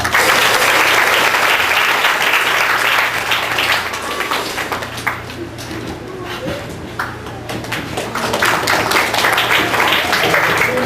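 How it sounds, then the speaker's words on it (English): Audience clapping at a Sunday school anniversary prize giving, loud continuous applause that eases slightly in the middle and swells again, with a faint voice and a low hum beneath. "Let's give a clap."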